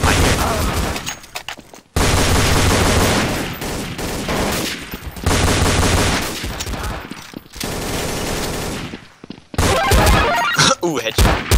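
Bursts of rapid automatic gunfire in Counter-Strike: Source, loud and dense, broken by brief gaps, with a player talking over parts of the shooting.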